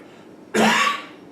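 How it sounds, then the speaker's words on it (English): A single sharp cough bursts out close by, rough and throaty, against a quiet background. "Sorry for the coughs."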